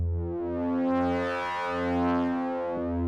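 Synthesized whooshing tone imitating a bike passing, a steady harmonic drone with slow swells in loudness, heard alone with no talk.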